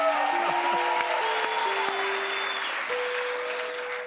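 A television talk show studio audience claps during an interview on La Resistencia. Broad, fairly loud applause holds for several seconds while sustained musical tones sound beneath it, and the clapping eases slightly toward the end.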